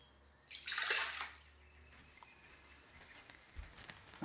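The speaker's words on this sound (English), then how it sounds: "we are gonna put in 1 2/3 cup of water, and I want it to be a little lukewarm, not hot" Lukewarm water splashes into a bowl for pizza dough in one brief pour, soft and close in a quiet kitchen, then a few faint drips and small clinks.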